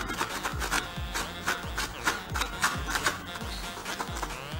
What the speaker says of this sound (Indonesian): Untuk merapikannya, kita bisa tarik ulur seperti ini, tarik kendurkan.